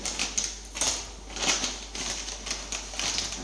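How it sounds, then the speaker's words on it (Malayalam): Crinkly plastic rustles and crackles in quick bursts as a packet of instant idiyappam mix is torn open up close, with no voices. "ഇത് പൊട്ടിക്കുകയാണ് പാക്കറ്റ് പൊട്ടിക്കുകയാണ്"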